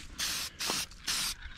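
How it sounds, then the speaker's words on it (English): Copper spray gasket sealant hisses from an aerosol can onto cork valve cover gaskets for a 1983 Chevy C-30 dump truck, three short close bursts with brief pauses between them. "I'm going to go ahead and put some of this copper spray gasket stuff over it"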